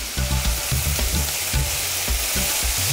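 Coconut milk hits a hot frying pan with chili and stirred ingredients, a loud steady sizzle and bubbling close up, with low rhythmic scraping pulses underneath.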